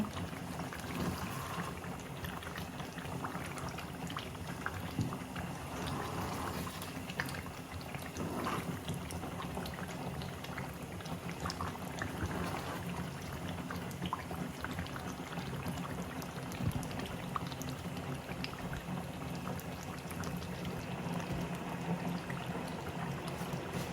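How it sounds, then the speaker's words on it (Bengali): A pot of meat and potato curry gravy bubbles on the stove, a soft continuous burble and hiss at low level with faint clatter, no voices. "এখন আমি ঝোল জ্বালাইব।"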